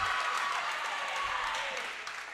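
Steady applause from a crowd at a school basketball game with a forty-point lead, a moderate wash of clapping that holds and then eases off slightly toward the end.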